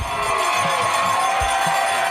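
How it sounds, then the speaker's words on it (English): A crowd at a high school football game cheers and shouts continuously, with a dense roar of voices throughout. "Among those cheering in the crowd"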